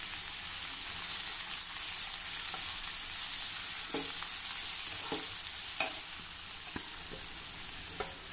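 Chopped tinda squash goes into hot oil with turmeric and asafoetida over a low flame, a soft steady sizzle with occasional clicks and scrapes of stirring, quiet and close.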